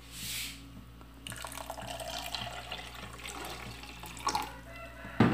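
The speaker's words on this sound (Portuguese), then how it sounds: "Vamos colocar um pouco d'água, uns 200 ml de água." Water pours and splashes into a container while making homemade dish detergent from a salt mixture, a moderate close trickle that keeps running under faint background noise.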